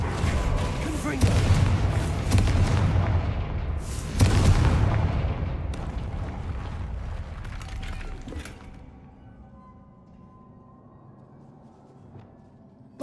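A Confringo fire spell blasts in Hogwarts Legacy, a loud booming burst with a rumbling tail that fades over several seconds into quiet room tone; a voice speaks near the start.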